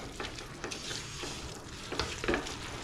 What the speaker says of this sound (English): Now mix.